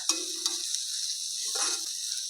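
Vegetables for cabbage Manchurian stir-fried in a pan on a gas stove, giving a steady sizzling hiss with two short bursts of stirring and scraping, close up and without talk.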